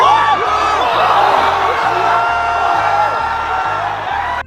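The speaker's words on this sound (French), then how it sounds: "Juste écouter les cris après le chaos." A crowd of fight spectators roars and whoops continuously, a loud dense wash of shouting with a rhythmic low pulsing underneath throughout.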